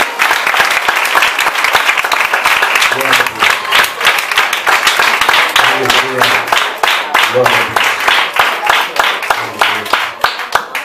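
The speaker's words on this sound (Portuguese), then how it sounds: "Recebe nossos irmãos com as palmas do Senhor Jesus." A church congregation claps together in a fast, steady rhythm, loud and close, while voices sing or call out over the clapping in repeating phrases throughout.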